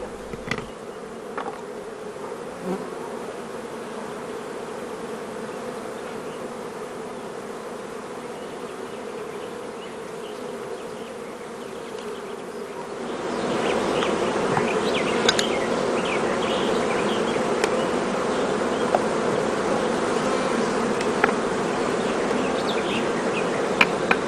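Honeybees buzzing steadily in a small hive fitted with little combs and a candy-filled feeder, a continuous drone that grows louder and denser about halfway through, with no talking.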